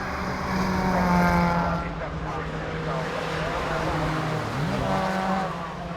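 Rallycross cars racing at Croft in the British Rallycross Championship, engines snarling loudly and shifting pitch through a corner, with a voice talking over the racket.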